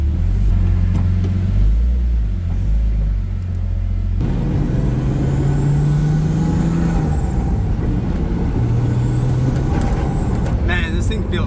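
A Nissan 240SX engine cold-starts and settles into a loud, close, rumbling idle, with a rise in revs partway through and a short hiss near the end.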